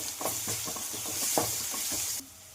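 Onion, chilli and garlic paste fry in hot oil while a spoon stirs them, making a steady close sizzle with repeated scraping strokes against the pan until the sound drops away near the end.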